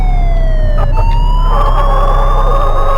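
A loud electronic ambulance siren in the video game Sim Emergency Driver wails continuously, its pitch sliding down and then up again over a deep engine drone.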